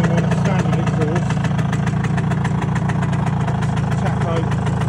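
Vespa T5 scooter engine idling on its standard exhaust, a steady, continuous two-stroke burble heard up close, loud and even throughout with no pauses.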